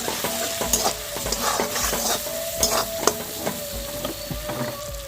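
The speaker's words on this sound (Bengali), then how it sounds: "হলুদ গুঁড়ো, লঙ্কার গুঁড়ো, একটু ধনে গুঁড়ো, আর দিয়ে দেবো ম্যাগি মশলা, দিয়ে ভালো করে কষে নেব।" Turmeric, chilli and coriander powders with Maggi masala sautéed in a pan for egg kofta curry, a steady sizzle broken by repeated scraping stirs of a spatula, close and fairly loud with no talk.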